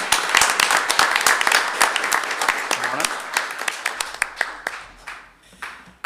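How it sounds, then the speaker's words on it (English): Audience applause at a school district board of trustees meeting welcoming a new student board representative, sharp hand claps that start dense and loud, then thin out into scattered individual claps and fade by the end. "let's give a big round of applause to Omkar Khatre."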